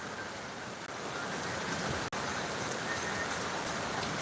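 Steady rain pours down outdoors in a continuous, dense hiss, loud and close, with one brief dropout partway through and no voices over it.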